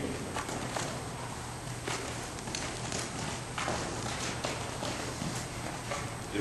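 A horse moving under a second saddle, hooves clip-clopping in a steady walking rhythm at moderate distance over a continuous low background hum.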